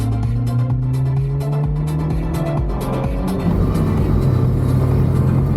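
A 1990 Honda Civic Si hatchback drives along back roads, its engine droning loudly and rising and falling in pitch with the gears, with steady road and cabin rumble throughout.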